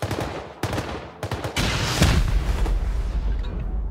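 Gunfire from turrets in a raiding video game: sharp rapid bursts of shots followed by a heavy, sustained booming barrage, loud and close with no speech.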